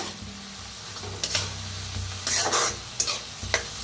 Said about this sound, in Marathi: आता डाळीला बी का नाही भाजून घेऊया कांद्याबरोबर।